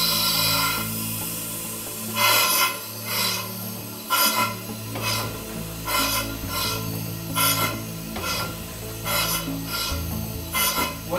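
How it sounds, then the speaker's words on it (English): A paddle wheeler's non-condensing, double-acting piston-valve steam engine chuffs exhaust through big pipes in a steady, rhythmic series of loud hissing bursts, each under a second long. "What you hear is the exhaust coming out through these big pipes here."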